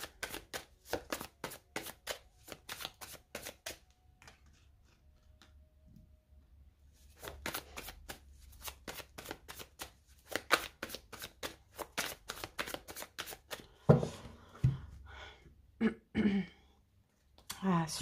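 Tarot cards being shuffled give rapid, crisp riffling bursts, repeated in several runs with short pauses, followed by a few louder taps and knocks as the deck is cut, with occasional throat clearing in between.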